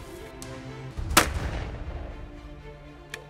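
Single sharp shotgun blast at a clay shooting club in Nîmes, loud and close with a rolling outdoor echo, followed later by a fainter distant report.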